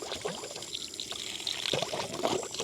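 A RainPoint smart sprinkler starts spraying water in a garden, giving a soft, hissing splash of liquid. It is faint and steady, with no talking.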